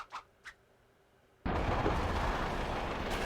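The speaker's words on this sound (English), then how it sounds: "Cool guys don't look at explosions." Explosion in the video game Kirby's Return to Dreamland: two faint blips, then a sudden loud burst at about 1.5 seconds that becomes sustained, roaring broadband noise through to the end.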